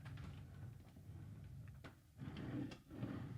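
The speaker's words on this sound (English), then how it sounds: "So I'm going to first open the drawers of the regular full-size dresser." Drawers of a full-size wooden dresser sliding open one after another, with soft wooden knocks and scrapes close by in a quiet room, one sharp click partway through.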